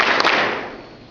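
Students in a classroom clapping together on cue, a short burst of hand claps that rings out and decays quickly.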